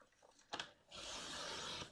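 Paper is cut for a flipbook: a brief scrape, then a steady close rasping slice lasting about a second, quiet and with no voices.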